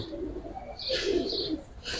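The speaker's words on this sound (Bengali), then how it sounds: "একবারে পাথর চোখের কবুতর" A pair of Giribaz pigeons, one green-necked and stone-eyed, coos in low, soft, rolling phrases nearby, with faint chirping and shuffling noise over the top.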